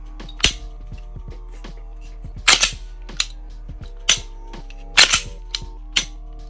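A PSA Dagger pistol dry-fires on snap caps, sharp metallic trigger snaps spaced a second or two apart with lighter clicks of the slide and reset between them, close and crisp over a quiet background hum.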